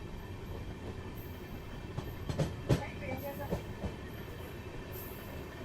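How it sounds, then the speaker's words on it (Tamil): An express train of new LHB coaches pulls out of a station near Valliyur, a steady low rumble of wheels with a few sharp clacks and squeals at the rail joints, heard from close by with no one talking. "ஸோ ஓகே, வண்டி வந்து டிபேட் ஆகுது."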